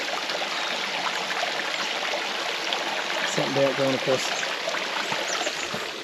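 A river rushes steadily beside a steep mountain trail, a constant broadband wash of flowing water close by, with a person talking over it for part of the time.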